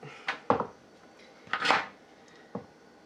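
A metal baking sheet is picked up and set down for making peanut butter and jelly thumbprint cookies, giving a few sharp clanks and scrapes close by with quiet pauses between them.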